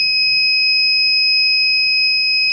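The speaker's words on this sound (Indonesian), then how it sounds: "Maka alarm berbunyi dan lampu LED merah menyala." An embedded system alarm buzzer sounds a steady, loud, piercing electronic tone that holds unbroken for the whole moment, with no voices.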